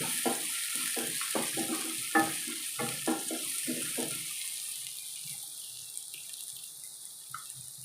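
Ginger-garlic paste and onions fry in a pan for a prawn curry, with a steady close sizzle and a run of rhythmic spatula strokes over the first half before the hiss settles alone.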